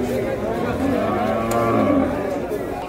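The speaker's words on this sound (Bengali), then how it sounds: "চমৎকার একটি গরু।" Close, drawn-out low moo from a cow at the busy Gabtoli cattle market during the Qurbani season, over a steady background murmur of the crowd.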